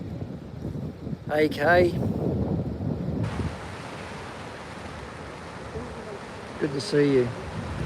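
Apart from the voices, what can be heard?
wind and waves at a coastal headland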